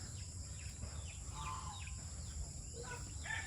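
Turkeys cluck faintly as they head into their house in a poultry yard, with a few soft, scattered calls over a low background hum.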